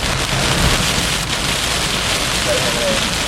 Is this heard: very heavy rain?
yes